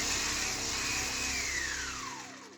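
An electric hand mixer whirs steadily through chocolate cherry cake batter after oil or butter is added. The motor hums loud and close, its pitch slowly sinking before it winds down and stops.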